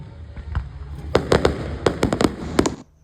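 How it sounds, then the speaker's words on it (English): Fireworks display in outback New South Wales, with a series of sharp cracking bangs at irregular intervals over a steady background rumble, moderately distant. "we had this amazing fireworks display"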